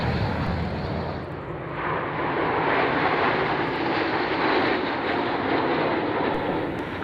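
A propeller aircraft roars steadily and loudly on its takeoff for a wing walker display at an air show, a continuous engine drone with no voices.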